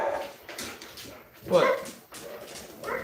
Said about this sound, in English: He's barking at Daphne.